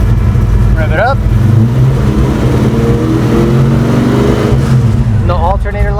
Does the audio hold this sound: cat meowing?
no